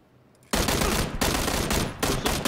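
Gunfire crackles in the battle royale video game PUBG Battlegrounds, a loud, close burst of rapid automatic shots that erupts suddenly after a quiet moment and runs on with brief gaps.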